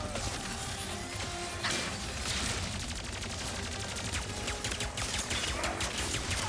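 Crates smashed by rapid gunfire in the Ratchet and Clank: Rift Apart video game, with a dense, continuous barrage of shots and breaking crashes running loud throughout.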